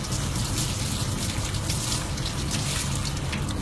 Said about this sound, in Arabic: تعالوا نغسلوها، تغسليها تحت الميه تنضفيها